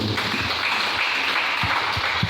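A church congregation applauds and acclaims the Lord with dense, continuous clapping that stays loud and even throughout, with low thumps beneath.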